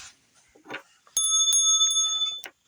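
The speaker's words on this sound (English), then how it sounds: "Oh, we gotta bring out the bell." A small bell rings twice in quick, bright metallic dings, after a few soft handling noises.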